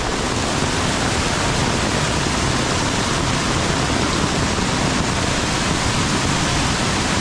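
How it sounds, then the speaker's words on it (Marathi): A steady, loud roar of heavy monsoon rain in the Konkan region mixed with rushing water, unbroken and dense from start to finish with no voices. "जबरदस्त पाऊस लागतोय."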